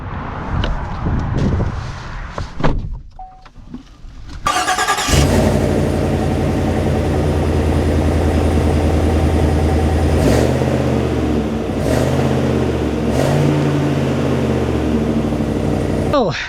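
A 2025 Chevrolet Silverado HD Custom truck engine pulls away and accelerates, a loud, close, deep drone rising through gear shifts after some talk at the start.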